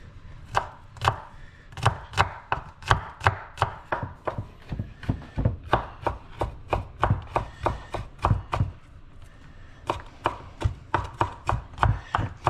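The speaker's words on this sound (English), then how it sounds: "Start chopping that garlic." A knife chops through two large garlic cloves on a board in rapid, steady strokes, each a sharp close thud, continuing for about twelve seconds with brief pauses.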